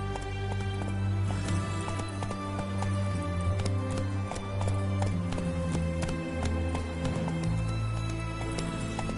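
In The Witcher 3, Roach the horse gallops in a steady rapid clip-clop of hooves over a continuous game music bed, with the rhythm shifting near the end as the pace changes.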